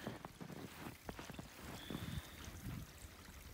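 A small creek flows through snow-covered Arkansas woods during a winter storm, its steady watery rush running throughout, with boat-like sloshing, faint trickles and a soft wind wash close by.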